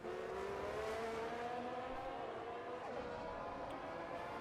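Race car crossing the line in a Brazilian GP sim racing game, a steady high engine whine with shifting harmonic tones running throughout at moderate, fairly distant level, with faint commentary voice underneath.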